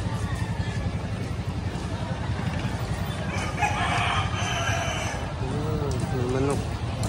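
Chickens crow and cluck at a busy Sunday market in Sagay City, with a clear crowing call rising near the end over a steady bed of crowd babble, passing vehicles and people talking.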